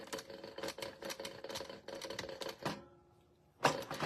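A sewing machine back stitches fabric for a cosmetic case in rapid, close mechanical bursts of needle clatter, stopping briefly before one last short burst.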